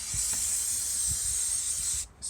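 Brake cleaner sprays from an aerosol can onto an oil leak on a car in one continuous loud hiss, which cuts off briefly near the end before starting again.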